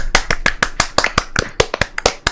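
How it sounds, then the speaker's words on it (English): Close, distinct hand claps from one or a few people on a podcast call, about a dozen sharp slaps in a quick, slightly uneven rhythm with no talking. "give this guy a round of applause for losing weight of his fat ass"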